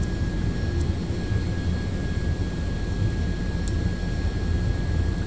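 A Quest Kodiak single-engine turboprop taxis in the X-Plane 11 flight simulator with a steady, droning engine hum and a constant high whine. The sound is continuous and moderately loud, with no talking.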